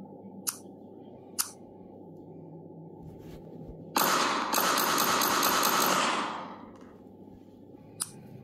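A cartoon turret lets off a rapid, loud burst of gunfire lasting about two seconds, with a few sharp isolated clicks before and after in an otherwise quiet scene.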